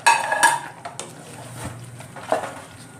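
Prawns stir-fried in a pan for a Bengali malaikari, with metal utensil scrapes and clinks against the pan and faint sizzling underneath over a few seconds.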